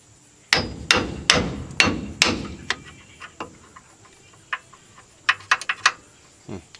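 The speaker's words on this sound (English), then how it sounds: "Take our hammer and just barely tap on this one." Sharp hammer strikes on metal during a wheel bearing replacement on a 1987 GMC S-15: four loud blows in quick succession, then a scatter of lighter taps, close by with no talking.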